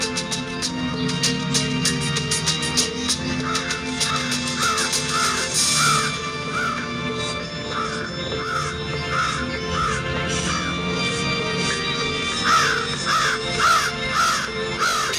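A crow caws repeatedly in quick runs of harsh calls, moderately loud and close, over continuous background music in a retold Javanese folk tale.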